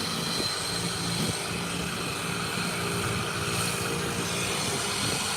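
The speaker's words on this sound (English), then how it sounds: "There you have it. The Inter-Caribbean Embraer 120." An Inter-Caribbean Embraer 120 turboprop taxiing toward the runway for departure, a loud continuous propeller and engine drone holding steady throughout with no voices.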